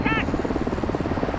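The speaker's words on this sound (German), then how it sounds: "Okay, Nikolai, blockier sie mit dem Heli." A helicopter's rotor in Call of Duty: Modern Warfare 2 chops in a fast, steady rhythm close by, with a brief electronic tone at the start.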